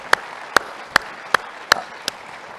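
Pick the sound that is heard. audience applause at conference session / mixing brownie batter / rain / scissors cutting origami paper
audience applause at conference session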